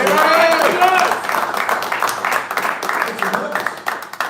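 Crowd at a basketball show applauding a Panther redshirt senior guard as he joins the table, a dense wash of clapping that follows a speaking voice and carries on steadily at moderate loudness.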